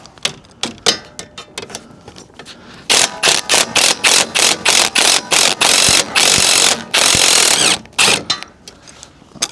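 A hand ratchet works loose the exhaust bolts on a Toyota Aygo, giving quick metallic clicking strokes, first scattered, then steady close rhythmic bursts of clicks with short gaps.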